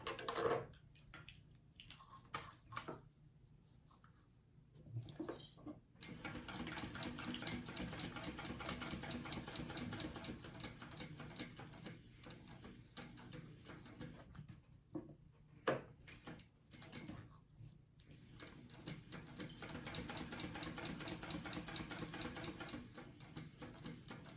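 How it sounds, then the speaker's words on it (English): A sewing machine stitching a phone sling bag runs in long steady bursts of rapid needle clatter, broken by short pauses and small clicks as the fabric is turned and repositioned. "So I'm going to sew down and around and back up."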